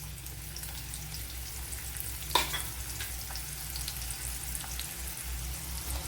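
Ginger, garlic and green chillies fry quietly in a pan for chickpea curry, a soft steady sizzle with a low hum beneath and one brief sharp clink of a utensil midway, no talking.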